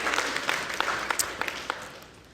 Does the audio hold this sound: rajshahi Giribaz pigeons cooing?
no